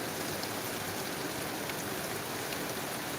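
A steady downpour of heavy rain in Tumakuru forms an unbroken, loud wash of drops hitting nearby surfaces.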